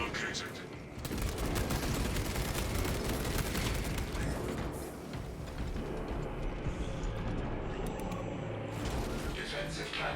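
Defensive cannons fire in a Warhammer shooter game, a dense, continuous barrage of heavy booming shots and rattling bursts with a brief lull midway, and a voice speaking faintly beneath.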